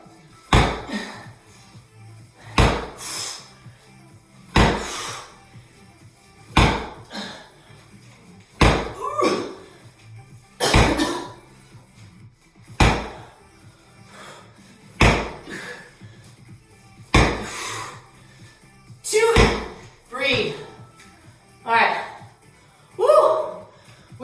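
Slam exercises thud repeatedly during a strength workout, about a dozen heavy impacts landing every two seconds in a steady rhythm, each one loud and close.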